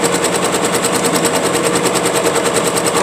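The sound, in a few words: sewing machine stitching a quilt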